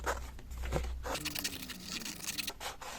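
Scissors cutting through a shiny-backed birthday card, with short crisp snips and paper crinkling in quick irregular bursts, heard close up.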